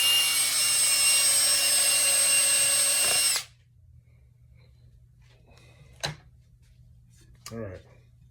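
A power drill boring holes in knife steel whines loudly and steadily for about three seconds, then stops, followed by near silence and a couple of brief clatters and knocks.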